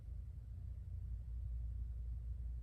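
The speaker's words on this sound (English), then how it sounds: "Somebody's air conditioning outside of my apartment is extremely loud." A loud air conditioning unit running outside an apartment: a steady low droning rumble that stays constant throughout, heard from indoors.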